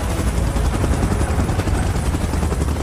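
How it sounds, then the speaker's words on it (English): Helicopter rotor noise from PUBG Mobile, a steady loud low thrumming with rapid pulsing that fills the whole stretch without any voices. "Chopper in position."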